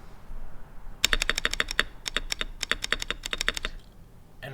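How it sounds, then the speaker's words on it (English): Repeated presses on the space bar of a GMMK Pro 3 HE wireless keyboard give a quick run of about twenty crisp, close thocks in small clusters, alone without voices. "This is the space bar."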